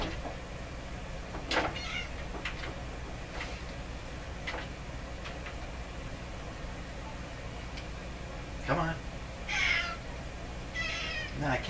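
A male cat meows several times indoors, a few separate drawn-out cries spread across the stretch, moderately near, over a steady low hum and faint ticking.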